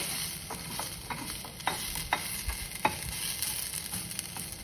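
Spices get stirred into meat frying in a pan, a soft continuous sizzle broken by a few scraping taps of a utensil against the pan, close and fairly quiet.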